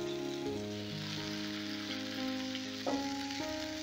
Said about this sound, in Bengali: সমস্ত ভেজিটেবলগুলো আমি গ্যাস বাড়িয়ে লাল লাল করে ভেজে নিয়েছি।